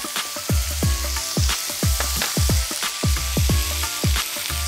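Ginger garlic paste hits hot oil in a pan, giving a loud, continuous sizzle and crackle, with repeated scraping stirs thudding underneath as pickle preparation begins.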